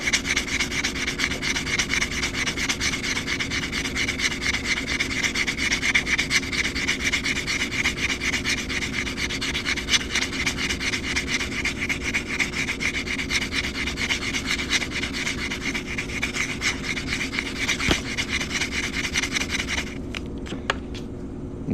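Metal coin ring being sanded, a steady, continuous abrasive rubbing that runs loud and close without a break for about twenty seconds before cutting off near the end.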